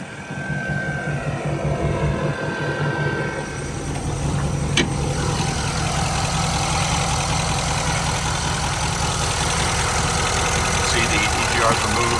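A tuned Nissan Titan XD with a Cummins diesel engine, lifted and riding on 35-inch tires, idles steadily on a farm with a loud, continuous low rumble that barely changes throughout.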